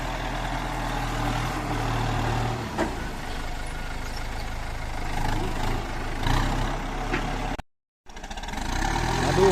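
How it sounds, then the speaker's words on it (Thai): Four-cylinder diesel engine of a Kubota M9540 tractor grading soil, a steady, close, low rumble that cuts out briefly near the end before resuming. "รุ่นนี้ 4 สูบนะครับ M95 รถใหญ่ก็ขนาดเครื่อง 4 สูบครับ"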